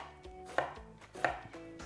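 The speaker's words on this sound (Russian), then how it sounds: "Нарезали и спокойненько нарезаем сначала на полоски, а потом на кубики." Kitchen knife cutting eggplant on a board for an autumn vegetable ragout, a few soft, quiet chops with a couple of sharper board knocks, close up and without speech.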